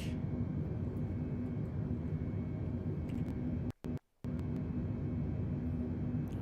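Airliner jet engines roar steadily through a simulated takeoff roll in a flight simulator, a loud, continuous rumble broken by two brief dropouts partway through.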